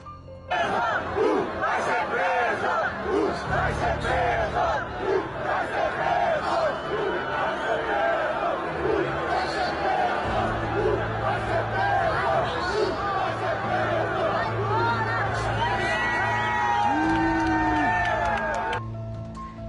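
Vasco football fans chanting against Bolsonaro, a huge crowd roaring a loud rhythmic chant in unison that holds steady and full for nearly the whole stretch.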